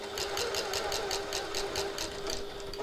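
A sewing machine stitches a hobo bag in steady rapid bursts of needle clatter, close and continuous with a constant motor hum underneath and no talking.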